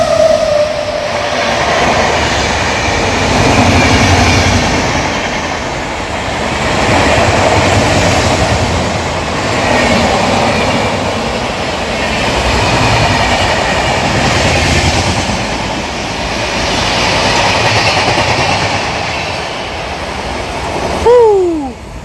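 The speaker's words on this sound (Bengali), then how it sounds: "ওদিক থেকে কিন্তু একটা ট্রেন আসছে, হাওড়ার দিক থেকে একটা ট্রেন আসছে" A train passes through Begampur railway station at night with a loud, close rumble and rhythmic clatter of wheels that swells and fades in waves, ending with a short squeal.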